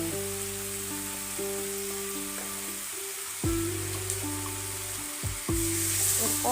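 Chicken pieces sizzle steadily in a pan with turmeric, cumin, coriander and Kashmiri chili powder for a village-style curry, a continuous close frying hiss with a few brief clatters, heard alone without talk.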